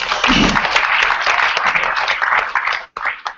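Audience applause fills a room at a lecture-hall gathering, a dense steady wash of many hands clapping that holds for about three seconds, dips briefly, then returns with a few scattered claps at the end.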